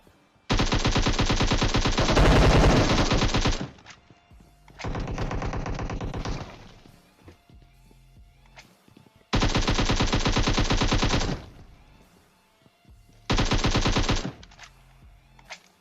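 Automatic gunfire in PUBG Mobile with AWM and Groza weapons: four loud, sustained bursts of rapid rattling shots a few seconds long each, separated by brief quieter gaps with faint echoes.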